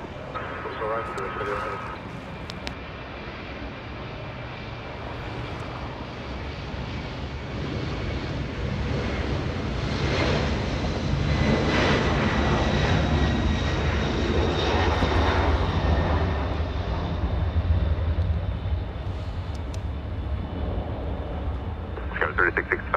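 Air Force One arrives at Los Angeles International Airport, a loud sustained jet engine roar that swells and rumbles over about twenty seconds, with wind buffeting the microphone and voices talking.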